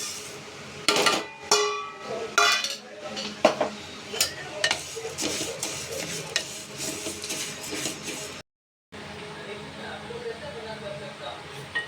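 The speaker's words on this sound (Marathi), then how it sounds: "आता आपण ही डाळ आहे ना, मसूर आणि मुगाची डाळ ही फ्राय करूया आपण" Masoor and moong dal tossed in a pan, with irregular metallic clinks and scrapes of a spoon against the pan, loud and close, with a brief silent gap.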